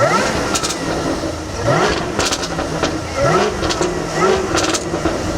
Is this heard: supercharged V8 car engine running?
yes